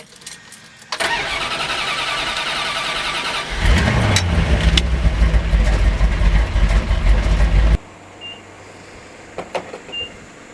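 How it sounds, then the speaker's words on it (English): An old Dodge Dart with a new starter cranks briefly, then the engine catches and runs loud and rough up close before abruptly cutting out, leaving faint background sounds. "listen to my new starter"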